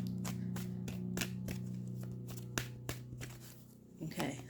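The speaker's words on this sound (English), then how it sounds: "So I'm going to shuffle it again." A deck of oracle cards is shuffled by hand in a series of quick riffling, rustling bursts over a steady low hum, with a few louder flicks near the end.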